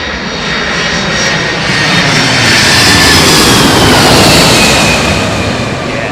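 Airliner jet engines at London Heathrow Airport roar loud and steady throughout, a broad continuous rumble that swells slightly as the aircraft passes close by.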